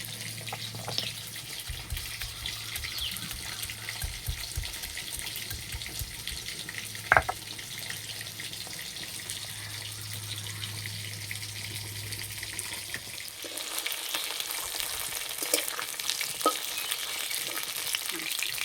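Tilapia fish sizzles steadily in a pan for a long stretch, with an occasional clink and stirring scrape, and a low hum fading partway through.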